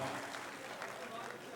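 An audience at a Hindi poetry and comedy stage event claps together in a dense, steady patter of applause that stays fairly faint and continuous throughout.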